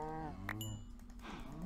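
Cows mooing in Minecraft, a drawn-out low bovine call heard up close over a steady game background, with a second moo starting near the end.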